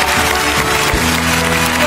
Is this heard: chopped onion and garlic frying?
no